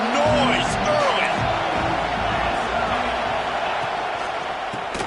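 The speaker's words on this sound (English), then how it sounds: "This crowd bringing the energy and noise early" A football stadium crowd roars in a dense, sustained wall of cheering and shouting that stays loud and steady throughout, with a commentator's voice speaking over it.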